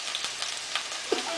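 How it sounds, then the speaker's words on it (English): Shrimp sizzles in a teaspoon of hot oil for udon, a bright crackling hiss with small pops, close and continuous over a brief moment. "After you put 1 teaspoon of oil, so you throw in your shrimp"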